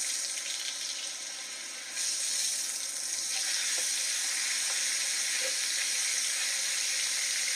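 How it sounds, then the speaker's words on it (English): A steak sears in hot butter in a pan, a steady loud sizzle and crackle that jumps in intensity as the meat goes in, then holds a continuous frying hiss. "Now we're gonna throw in the steak."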